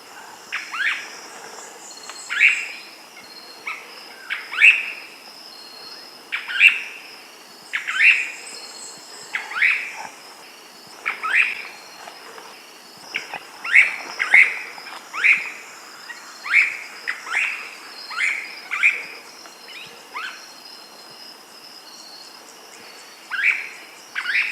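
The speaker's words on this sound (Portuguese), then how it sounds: "Ouça o canto do trepador do Nordeste." A Cryptic Treehunter, the extinct trepador-do-nordeste, sings in Atlantic forest at Serra do Quengo, Pernambuco, Brazil, giving a long series of sharp, high, evenly spaced calls over a faint hum of insects.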